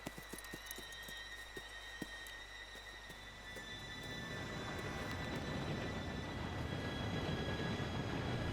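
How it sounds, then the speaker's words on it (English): A train pulls in within the video game Red Dead Redemption 2: faint rhythmic wheel clacks at first, then a steadily swelling rumble with a high squealing tone as it draws near. "Train should be here any minute now."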